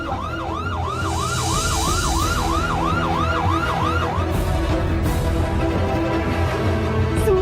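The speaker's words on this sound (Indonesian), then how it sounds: "Kalian dengar sirene di luar itu?" A wailing police or ambulance siren sweeps up and down steadily outside, then fades out, over a low street rumble.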